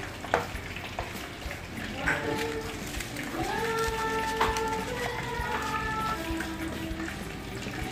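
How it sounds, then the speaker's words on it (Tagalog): Steady sizzling and bubbling from a pan of pancit bihon rice noodles boiling on the stove, with stirring noises and a voice talking over it. "kumukulo na ulit siya"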